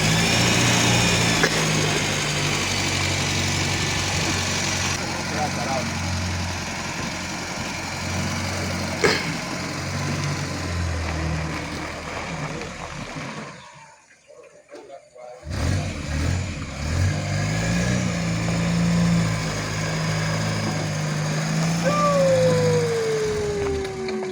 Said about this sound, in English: let's have a test drive in a Land Rover lightweight